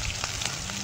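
Chopped onion and crushed garlic frying together in a pan over a clay stove, a brief steady sizzle.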